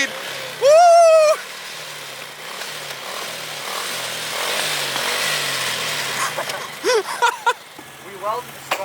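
An ATV with a freshly rewelded sprocket runs in a rough, uneven low putter and revs up and down, while excited voices shout and talk loudly over the engine.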